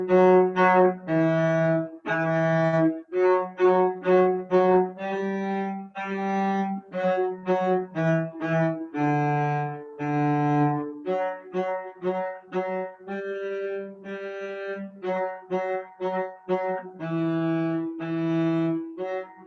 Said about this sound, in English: now I'm going to teach you guys this tune called Boil Them Cabbage Down